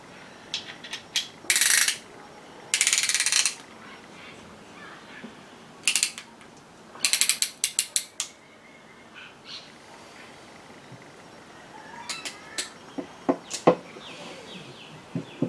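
A ratchet clicks in short, rapid bursts while tightening a piston ring compressor on an engine, close and loud against a quiet workshop background, then a scatter of lighter metallic ticks and taps.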